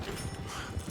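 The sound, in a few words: horses in the video game Red Dead Redemption 2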